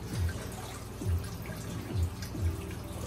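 Water draining back through the PVC pipes of a basement hydroponic grow system, a steady trickle with low gurgling pulses recurring roughly every second, close and moderately loud, no voices.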